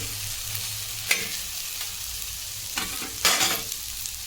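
Okra frying and being stirred on a griddle gives a steady sizzle with a few sharp scrapes of the spatula, the loudest burst near the end, and no voices.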